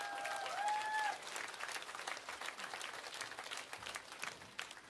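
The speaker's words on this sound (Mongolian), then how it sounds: "Халуун алга ташаа." An audience applauds warmly at a live esports event, the M5 world championship, with dense clapping that is loud at first and then settles into a steady background roar, and a brief tonal effect sounds at the start.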